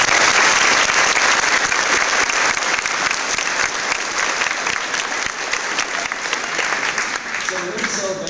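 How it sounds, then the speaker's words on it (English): An audience at a school Veterans Day program applauds veterans with loud, sustained clapping that fills the room for several seconds, with voices mixed in. "Give them a round of applause."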